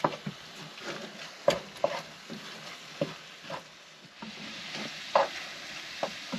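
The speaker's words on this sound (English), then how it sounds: "So I'm just going to give it a last stir." Eggs and tomato frying in an old pan, a gentle sizzle under repeated scraping and tapping strokes of a utensil stirring the mixture, close and moderately quiet.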